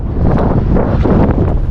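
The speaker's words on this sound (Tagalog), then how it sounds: "Malakas lang kasi yung hangin" Strong wind buffets the microphone while fishing, a loud, continuous roaring rush with gusty swells across the whole moment, close and unbroken, with no voices.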